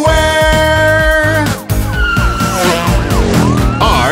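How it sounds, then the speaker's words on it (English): Cartoon police car siren, loud and close, wailing in rising and falling sweeps over a bouncy children's song backing, with a brief drop partway through. "I am a police car."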